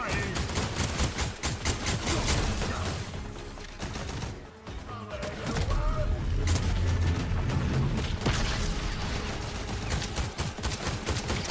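Gunfire in the Fortnite video game comes as dense, rapid bursts of shots and booms, loud and close, with a brief lull midway before the firing resumes, and faint talk beneath it.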